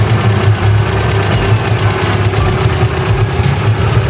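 A modified, tuned 1994 Mazda MX-5 Miata M Edition idles with a loud, steady, low engine rumble close by, unbroken for several seconds with no voices.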